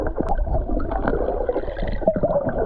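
Water pours and gurgles steadily at the Las Yayitas waterfall in Baní, a continuous close, churning rush with brief splashes throughout.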